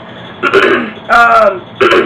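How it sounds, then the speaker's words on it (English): Three short bursts of throat clearing, close and fairly loud, with brief pauses between them and no other sound. "Excuse me, clear my throat."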